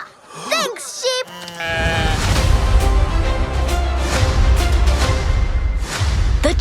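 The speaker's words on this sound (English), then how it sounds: "Thanks, sheep!" An animated sheep bleats in quick, wavering calls at the start, then music and lively cartoon sound effects take over loudly, with character voices mixed in.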